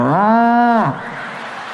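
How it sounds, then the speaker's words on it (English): A single loud, drawn-out cow moo within a banda music recording lasts almost a second, close and resonant, then fades into a low background hum. "And then a cow."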